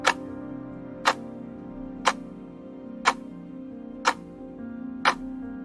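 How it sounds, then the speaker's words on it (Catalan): A large ebony pendulum clock ticks slowly and evenly, with six sharp, clear ticks about a second apart over a steady low hum. "El seu pèndol es movia amb un tic-tac sord,"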